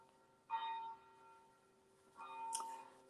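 Bell ringing in the background, faint and distant, with two soft resonant strikes about two seconds apart over a quiet room.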